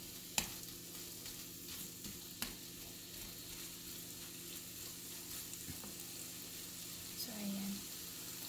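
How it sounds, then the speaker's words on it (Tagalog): Ground beef frying in a pan for Filipino beef sisig gives a steady, low sizzle throughout, with a few soft clicks of stirring and a brief scrape near the end. "Antayin na lang natin na mag-golden brown yung ground beef."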